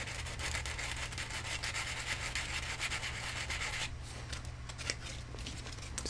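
ABS plastic being roughened with sandpaper, a continuous close scratchy rubbing in quick back-and-forth strokes, steady and moderately loud, with a low hum underneath.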